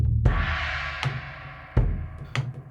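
A Trixon drum kit heard through overhead microphones: four separate hits, a couple of them sharp and punchy, each ringing out with a cymbal-like wash before fading, with no talk.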